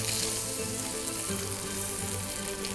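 Salmon fillet frying medium rare in a hot pan, a loud dense continuous sizzle and crackle, steady and close throughout.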